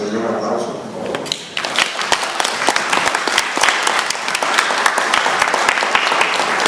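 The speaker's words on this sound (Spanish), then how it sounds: "les pedí un aplauso, por favor" Applause at a panel discussion on ending the war on drugs, a dense, loud round of clapping that swells after a brief opening moment and continues steadily for several seconds.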